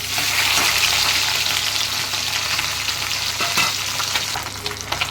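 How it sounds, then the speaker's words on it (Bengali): Loud, steady sizzling of parshe and bata fish frying in hot oil, a continuous crackle throughout with occasional louder pops and faint stirring. "মাছগুলো এবার আমি ভেজে নেব।"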